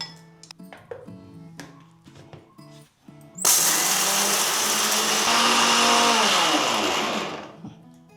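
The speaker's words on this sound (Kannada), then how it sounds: "ಮೊದಲಿಗೆ ಹುರ್ಕಡ್ಲಿನ ಸಣ್ಣಗೆ ಪುಡಿ ಮಾಡ್ಕೊಳ್ತಾ ಇದ್ದಾನೆ ಮಿಕ್ಸಿ ಜಾರ್ಗೆ ಹಾಕ್ಕೊಂಡು" Roasted gram is ground to a fine powder in a mixer grinder jar. A few clinks and knocks come first, then the motor starts with a loud whirring roar that holds steady for about four seconds before it winds down.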